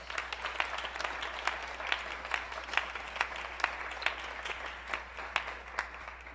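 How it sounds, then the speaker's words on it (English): A modest audience at an arts and homelessness event applauds steadily, individual sharp claps standing out over a soft wash of hands, moderately distant with no talking. "Could you give him a round of applause?"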